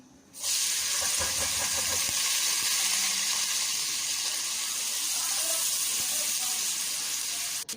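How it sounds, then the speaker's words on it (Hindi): Sliced onions dropped into hot oil in a pan burst into a loud, sudden hiss that settles into a steady, even frying sizzle close by. "तो अब हम डाल देंगे इसमें प्याज। प्याजों को हम लाइट ब्राउन करेंगे।"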